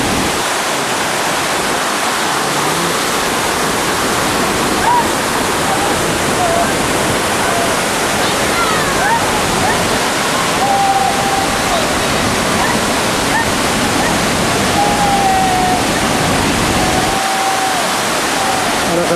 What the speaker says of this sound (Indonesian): Lihat air terjun yang disebut